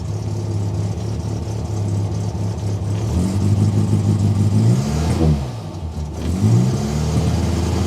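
A 1968 Morris engine, started after years unused, runs steadily close by with a slight misfire, its idle wavering and dipping briefly near the end before picking back up.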